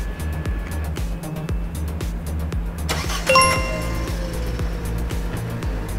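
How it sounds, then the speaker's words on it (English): A Mercedes car engine cranks and fires up after a faulty relay is replaced, settling into a steady idle; the start is brief and the car is heard up close. "It starts right up."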